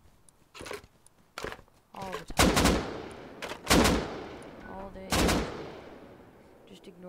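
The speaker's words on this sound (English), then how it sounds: "Just ignore the gunshots." Gunfire in the video game Rust: several loud, sharp bursts and single shots, some close together, punctuate the stretch while people talk over them.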